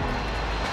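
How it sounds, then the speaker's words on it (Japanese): An airstrike plane in Call of Duty: Warzone roars overhead, a loud steady aircraft engine drone held throughout the brief moment. "空爆で死んだ。"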